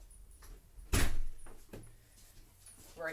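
A door is handled indoors in a garden-party setting: a loud thud or latch knock, then a softer bump and a few quieter knocks, fairly near, with brief noise at the end.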